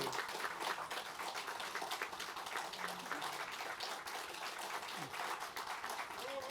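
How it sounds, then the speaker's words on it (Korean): Steady applause of encouragement from a room of party members at a National Assembly caucus meeting, dense even clapping throughout at moderate distance. "뜨거운 격려의 박수 부탁드립니다."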